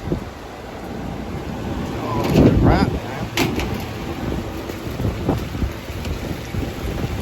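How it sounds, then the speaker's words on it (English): Rain patters continuously with gusts of wind outdoors, and a man briefly exclaims over the noise; no distinct thunderclap stands out. "And it started freaking raining now."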